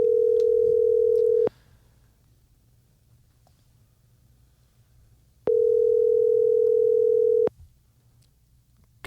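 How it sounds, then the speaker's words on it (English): A steady telephone ring-back tone sounds during an outgoing call, two loud sustained beeps of about two seconds each, separated by several seconds of near silence. "Sorry, you're gonna get phone noise"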